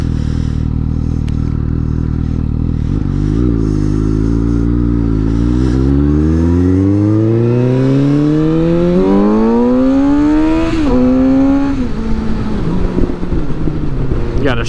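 Suzuki GSX-S 750 motorcycle with catless Black Widow exhaust headers revving loud and close, engine pitch climbing steadily over several seconds before dropping back, with a steady rumbling idle underneath.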